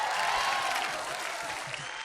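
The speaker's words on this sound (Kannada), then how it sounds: "ಜೋರಾಗಿ ಚಪ್ಪಾಳೆ ಬರಲಿ." Audience applause at a Kannada television comedy show, a steady wash of clapping from a crowd that holds evenly for the whole stretch.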